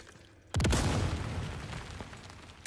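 A grenade explodes in the Resident Evil 4 Remake video game with one sudden loud boom, followed by a long rumbling roar that slowly fades.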